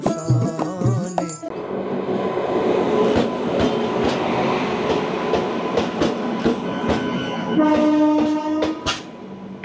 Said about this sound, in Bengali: এটা আমাদের পাস করছে যশবন্তপুর থেকে টাটা উইকলি এক্সপ্রেস